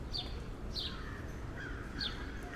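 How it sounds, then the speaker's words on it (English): Birds call in the Fireman's Memorial Garden, a community garden in New York City's East Village, with a few short chirps and caws spaced out at moderate distance over a steady rumble of city background noise. "you can hear the birds"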